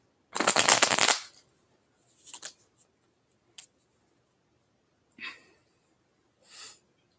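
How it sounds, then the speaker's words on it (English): Tarot cards being handled during a reading: a long shuffling riffle up close, followed by several short, softer card slides and flicks spaced apart in otherwise quiet surroundings. "I'm gonna pull more cards, see if anything else comes up."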